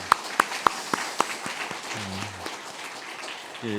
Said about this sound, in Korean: 그래서 우리 격려의 박수 한번 우리 찬양대 한번 보내드리겠습니다.